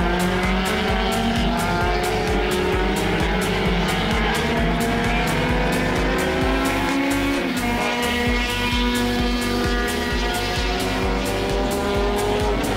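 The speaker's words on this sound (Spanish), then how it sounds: "Otro auto en la pista" A T2000 race car engine drones steadily at high revs during qualifying, pitch rising and falling as it runs the track, loud and continuous with no talk.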